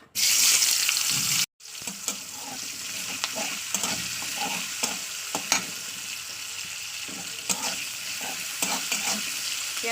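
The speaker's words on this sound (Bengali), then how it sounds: "এবার তেলটা যেহেতু গরম আছে আমি এখন দিয়ে দেবো পেঁয়াজটাকে দিয়ে দিলাম পেঁয়াজ" Chopped onions tip into hot oil with a loud hissing burst. After a brief cut, a steady sizzle follows, punctuated by repeated scraping and clattering strokes of a spatula, with no voices.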